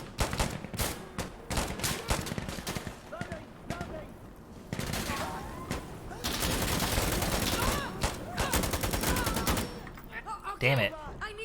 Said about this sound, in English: Mortar's coming in.